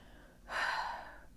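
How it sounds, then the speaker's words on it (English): A single deep breath drawn in through the nose and mouth, quiet and close, rising and then easing off over about a second in an otherwise hushed room. "I'll also take some deep breaths"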